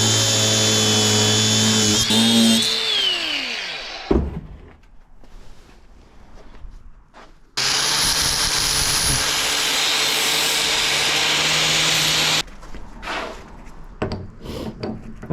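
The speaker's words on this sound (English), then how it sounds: "I need to cut off this end here and weld it onto this U-joint here." A power tool cutting through the metal end of a steering shaft, a loud whining grind that winds down, then a second long steady cut, up close with clanks between passes.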